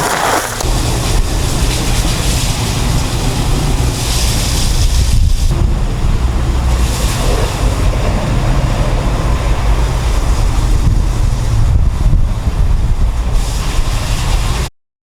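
A pump sprays pressurized water to clean out a pond, producing a loud, steady rushing hiss that holds for about fourteen seconds before cutting off abruptly.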